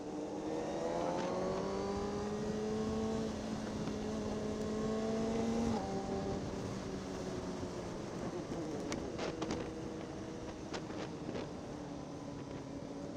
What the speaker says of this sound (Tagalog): may motor na! May motor ah!